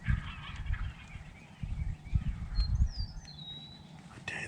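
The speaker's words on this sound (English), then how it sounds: "Dude, they both got full gobbles." Wild turkeys gobbling outdoors during a spring hunt, a couple of rough calls rising over low rumbling background, with a higher bird call near the end.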